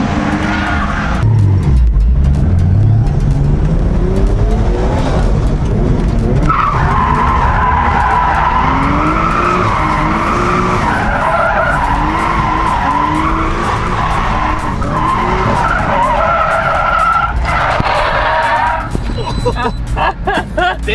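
Drift car skidding at Ebisu circuit, loud continuous tire squeal with rising and falling engine revs as it slides through corners, with a voice talking over parts of it.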